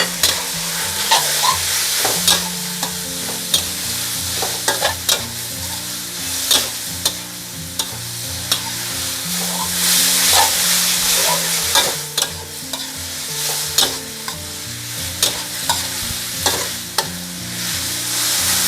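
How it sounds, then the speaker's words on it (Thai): Stir-frying bamboo shoots, chicken offal and holy basil in a pan: continuous sizzling with repeated scraping and clanking of a utensil against the metal, steady and close. "เมื่อเราปรุงทุกอย่างเรียบร้อยแล้วให้เราผัดเลยค่ะ"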